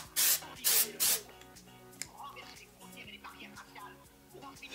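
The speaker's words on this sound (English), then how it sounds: "I'm gonna take some of the Wave and Shine Spray," Oribe Wave and Shine hair spray is sprayed in three quick, close, loud hissing bursts onto wavy hair, followed by quieter handling sounds with faint background music.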